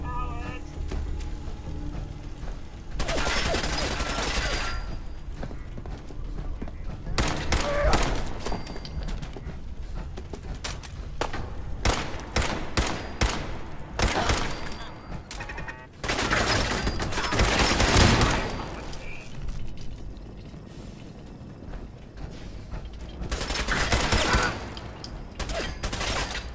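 Gunfire in the Fallout 4 video game comes as repeated bursts of rapid, loud shots interrupted by short quieter gaps, with mechanical clicks and rattles between the volleys.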